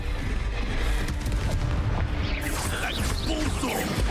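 Confringo explosion spell in the video game Hogwarts Legacy, a heavy booming blast that rumbles loudly and then breaks into crackling, swirling magical debris that fades out, with no talk.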